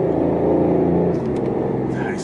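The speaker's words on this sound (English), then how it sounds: "Such a 911 type of sound, isn't it? It's induction sound." A prototype sports car engine revs with a Porsche 911-like induction growl, a loud, steady, close rumble throughout with brief higher whirs near the end.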